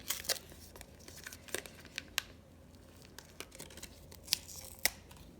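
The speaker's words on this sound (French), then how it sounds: "on va prendre un ciseau justement" Scissors snip through tape on a package in a few quick crisp cuts, mixed with crinkling and tearing of packaging up close, no speech.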